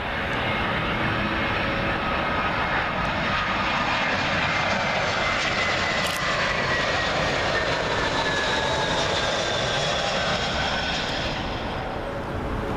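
A British Airways Airbus A320 on approach to Heathrow passes low overhead with a loud, steady engine roar and a faint rising whine that holds throughout.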